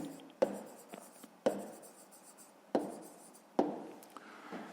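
Pen writing numbers on paper for a fifth-grade math exercise, making four distinct scratchy strokes with short taps between them, close and quiet, with no voice.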